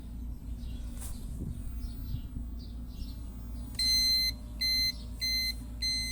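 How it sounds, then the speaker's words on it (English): Kiln PID controller sounding its out-of-temperature alarm, four sharp electronic beep bursts in a quick repeating pattern over low hum and faint background knocks. "out of temperature spec alarm. I need to fix that."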